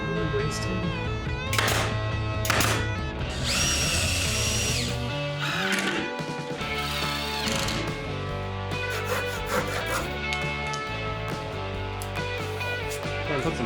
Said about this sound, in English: So oscillating tools are officially amazing. It made short work of this.